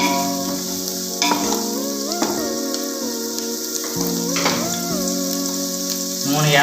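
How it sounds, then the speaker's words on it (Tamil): Onions sauté in a covered pan with cardamom and bay leaf for egg biryani, giving a loud continuous sizzle and crackle with occasional stirring scrapes. "வெங்காயம் வதங்கிட்டு இருக்குது."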